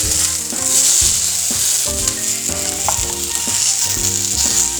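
Red peppers sizzle loudly in a super hot skillet, a strong close hiss overlaid with stirring scrapes and clunks of the pan at irregular intervals, with no speech.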